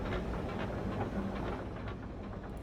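Train engine rumble from a video game, a steady low drone with faint rhythmic clatter, heard alone and at constant loudness.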